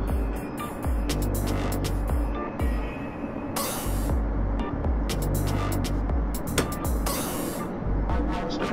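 A freight train in the Train Simulator 2019 game accelerates at full throttle, a throbbing low engine drone with rhythmic pulses and bursts of hissing noise, steady and fairly loud, with no talk.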